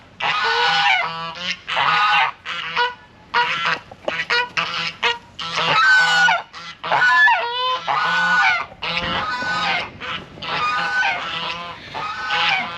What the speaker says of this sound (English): I don't know if the geese are upset or happy, but they're definitely vocal.